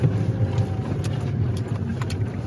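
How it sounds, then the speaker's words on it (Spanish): A pickup truck engine labours uphill in first gear with a failing clutch, giving an uneven, lugging low rumble heard from inside the cab, with faint intermittent rattles and ticks. "No sé si se alcanza a escuchar, nos está fallando la camioneta"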